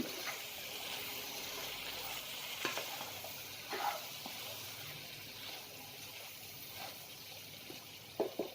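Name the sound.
stirring soya bean chicken dry in pan after turning off stove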